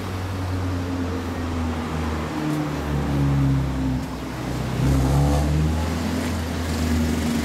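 A 2005 Honda CB1300 Super Bol d'Or fitted with a Total Craft exhaust idles and revs at a motorcycle show display, producing a steady, deep engine drone that swells twice, close and loud.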